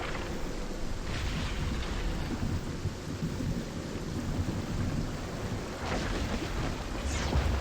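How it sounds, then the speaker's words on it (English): A storm in the Fortnite video game rumbles with thunder over steady rain, a continuous loud wash of noise with a few sharper cracks breaking through. "I've really got to get out of this storm."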